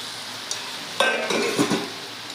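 A lid lifted off a pot of simmering chana dal, bringing a sudden metallic clink and a burst of bubbling, sizzling cooking noise with a few light utensil knocks, close and clear with no talking.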